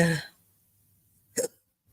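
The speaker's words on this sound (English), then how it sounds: "I've got hiccups." A single short hiccup sounds once, sharp and close, from someone speaking into a microphone, following a trailing bit of his speech and then quiet.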